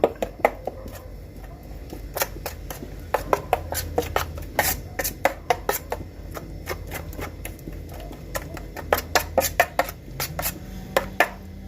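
Spoon or hand mixing fish fry masala with lemon juice and salt for vanjiram fish fry, heard as irregular close clicks and scrapes against a bowl, no one talking.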